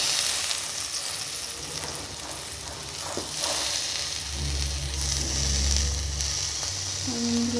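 Soaked soya chunks frying in a pan, a continuous sizzle that swells louder midway, with low scraping stir sounds and faint utensil taps, no voices.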